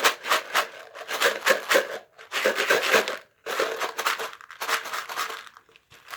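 A homemade maraca, a small taped-up craft shaker, is rattled in several bursts with short pauses between them, producing a close, gritty, rustling rattle with no talk.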